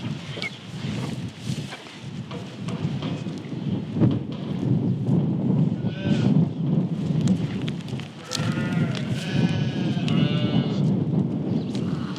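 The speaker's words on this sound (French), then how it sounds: "les brebis, on va les rassembler toutes ensemble" Ewes bleat on a farm in a few scattered calls over steady wind-like rumble and outdoor noise, with no talk.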